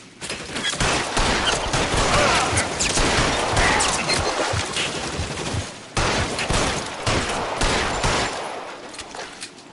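Gunshots ring out in LA Noire, the 1940s Los Angeles detective game: a loud, sustained volley of rapid shots and crackling gunfire, briefly cut off near the middle before resuming.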